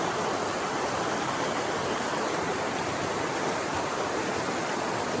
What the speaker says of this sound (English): Okay, here's a view of upstream. One of the prettiest creeks I think there is in the park.